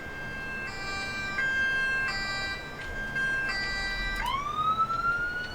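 An emergency vehicle siren in the video game Emergency 4 wails in a repeating two-tone pattern, then switches to a rising whoop near the end over a low engine rumble.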